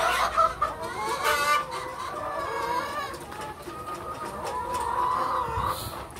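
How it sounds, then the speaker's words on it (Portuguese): Several free-range chickens cluck and murmur nearby in an outdoor farm yard, with overlapping calls rising and falling continuously. "Vou deixar um pouquinho vocês verem aqui as galinhas"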